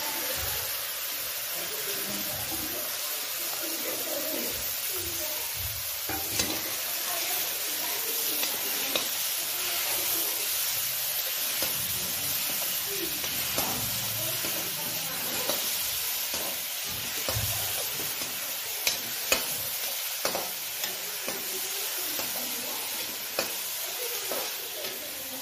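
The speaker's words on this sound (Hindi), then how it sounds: "प्याज भून चुकी है" Onions and tomatoes with green chillies fry in a pan in a home kitchen, giving a low, steady sizzle with occasional stirring clicks and scrapes, faint and a little distant throughout.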